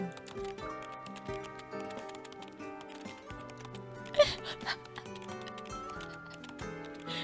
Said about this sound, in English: This is the sound of Zayne typing